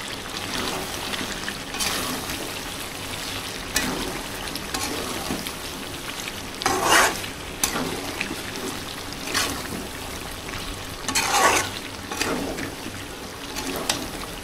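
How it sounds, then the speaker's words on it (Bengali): Potatoes and chicken wing, leg and skin pieces fry with a low, constant sizzle as they are stirred in a pan, with periodic louder scraping strokes breaking through. "আলুটা দিয়ে এবার আর একটু ভালো করে কষিয়ে নেব।"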